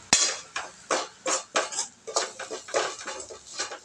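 Tomatoes and dried masi fish sautéing in a pan on low heat, heard as a series of rhythmic scraping and clinking strokes of a spoon against the pan, close and fairly loud, with no talking.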